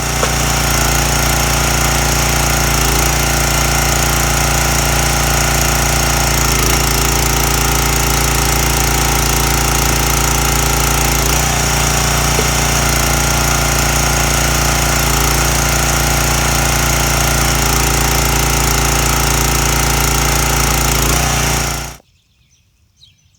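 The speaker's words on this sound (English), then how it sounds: "splitting a piece, then setting it to retract and let it retract on its own while you deal with getting rid of the split pieces of wood" A CountyLine 30-ton hydraulic log splitter runs outdoors, its engine roaring loud, close and steady for about twenty seconds with slight load changes before it cuts off abruptly into near silence.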